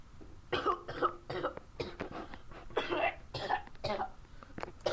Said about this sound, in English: I left me coughing in the video